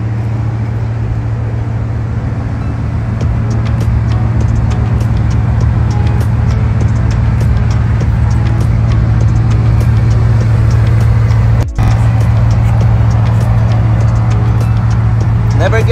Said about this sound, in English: Decided to take my Bugatti Rembrandt for lunch.